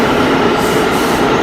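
A subway train rumbles along the tracks, a loud, steady roar of wheels and carriage noise that holds constant from start to finish with no voices.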